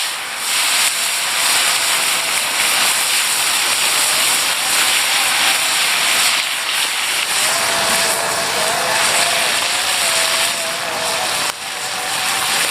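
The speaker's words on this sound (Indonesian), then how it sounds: "kita goreng untuk belalangnya" Grasshoppers frying in hot oil in a pan, being cooked crispy for a spicy green-chili balado dish: a loud, steady hissing sizzle that runs unbroken and close, with no talking.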